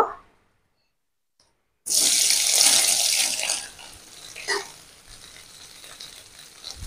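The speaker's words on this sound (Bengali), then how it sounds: "এই সয়াবিনগুলো এবার ভেজে নেব।" Soybean chunks drop into hot oil in a wok, a sudden loud sizzle bursting in after near silence and then settling into a softer steady crackle.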